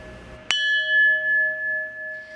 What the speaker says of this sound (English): Striking the Jingsi mechanical bell before heading to work every morning, Chen Miaoxing reminds herself to get rid of